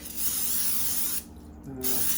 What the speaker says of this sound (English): I'm gonna go ahead and spray it thoroughly with Pam or Baker's Joy